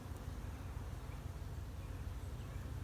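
Dense, steady buzzing of many bees inside an active new swarm hive full of freshly built comb, a continuous close drone that holds constant throughout with no pauses.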